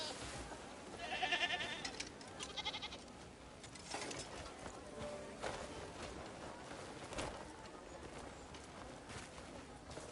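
Goats bleat at a ranch in the video game Crimson Desert, with a couple of wavering cries early on over a steady, noisy ambient bed and light clopping sounds.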